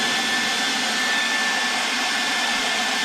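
A SnapFresh 20V 2.5Ah cordless electric reciprocating saw runs steadily at its lowest setting, giving a continuous airy whirr like a hair dryer, close and even throughout with no talk.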